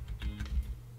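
Quick typing of a name on a computer keyboard, a short burst of muffled key taps over a low hum, close and fairly soft.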